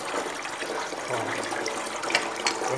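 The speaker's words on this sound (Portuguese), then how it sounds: "deixar escorrer essa água, a erva tá ali, deixa escorrer." Rinse water draining off freshly washed herbs, bitter melon leaves (melão-de-são-caetano), a steady trickling, splashing flow that runs continuously, fairly close and moderately loud, with no one talking.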